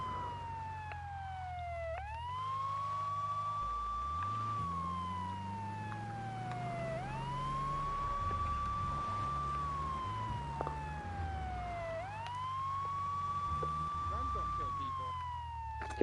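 A police siren from a vehicle in Grand Theft Auto III wails in long repeating cycles, sweeping up and then slowly falling, loud and steady over a low rumbling engine, with a voice talking at times underneath.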